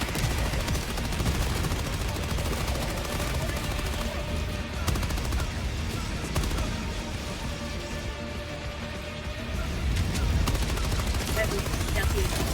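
Machine gun fire in Helldivers 2, rapid bursts and dense gunfire rattling through a busy battle mix, with players talking over it.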